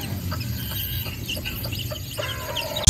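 Soft, repeated clucking of a hen, played from a recording to a chick, steadily over a low background rumble, ending in a sudden loud bump.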